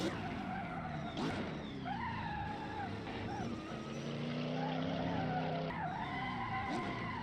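A race car in the Assetto Corsa racing game skids off track after overshooting a corner, its engine droning loudly and steadily with tires scrubbing throughout, with no talking.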